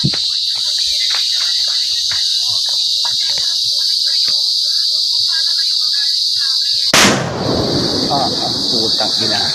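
A single loud, close blast from a Super Lolo 12-gram firecracker cuts through steady, loud insect chirping at night. Scattered speech is heard before the explosion.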